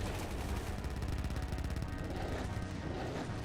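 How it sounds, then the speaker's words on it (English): Loud, continuous barrage of explosive bursts and crashing blasts as a Cyberdemon blows up and dies in a Doom 2 mod, dense rapid booms filling the whole stretch with no pauses. "They do have a very satisfying explosion sound and death."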